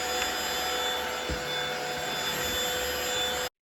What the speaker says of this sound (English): Here is how this vacuum sounds as well as how well it handles rice on a hardwood floor